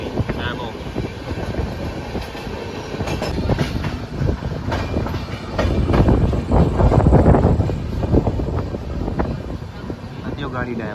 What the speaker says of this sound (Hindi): जो सेम ट्रैक पर चल रही है ये लोकल ट्रेन भी मैमो।